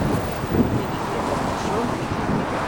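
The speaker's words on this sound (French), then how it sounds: "c'est le vent." Steady wind rushes over an outdoor microphone in Russia, a dense, continuous roar that stays loud and unbroken throughout.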